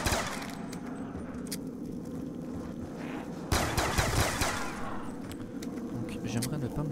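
Gunfire in Black Ops 2 zombies mode, rattling as rapid bursts under a steady game soundscape, with a louder volley erupting partway through.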